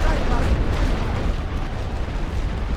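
Artillery shell explosions in a Great War Western Front strategy game, a loud, continuous booming rumble throughout with heavy low-end weight and no clear gaps between blasts.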